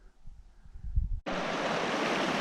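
A river in British Columbia flows straight across a hiking trail near Buchanan Creek, a steady broadband rush of moving water that cuts in abruptly and holds constant after a brief stretch of quieter, muffled rumbling.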